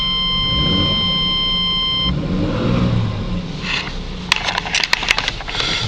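A 1996 Chevy S10 pickup with a 4.3 V6 Vortec engine and new exhaust starting cold, a loud rough engine note with a steady whine before several quick throttle blips rise near the end.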